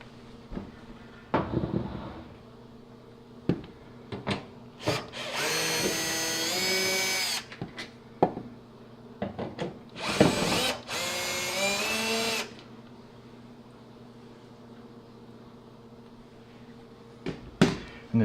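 A power drill whines in two long bursts while backing hex screws out of a GE dryer door, with clicks, taps and small handling knocks between the bursts and brief pauses of quiet.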